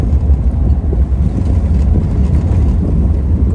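Ferrari 250 GT California Special from Modena accelerating in second gear, a steady, loud low engine drone with wind rush filling the whole stretch, no talk.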